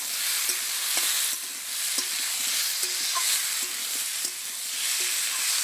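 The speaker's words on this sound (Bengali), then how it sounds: "সবকিছু খুব ভালোভাবে মিশিয়ে নিচ্ছি।" Fried vegetables and tomato are mixed in a hot pan, a steady sizzle broken by soft, evenly spaced scrapes of a spoon against the pan, close up and with no speech.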